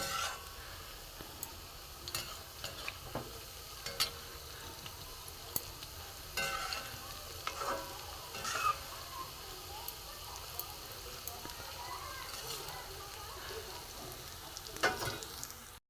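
Bottle gourd pakora fry in hot oil with a steady crackling sizzle and occasional sharp clicks as the fritters are turned over in the pan, continuous and close for the whole stretch.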